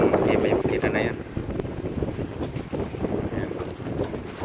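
A motorized outrigger bangka chugs on the open sea while waves are readied for a fishing trip, its steady engine drone blended with strong wind buffeting the microphone and surf noise.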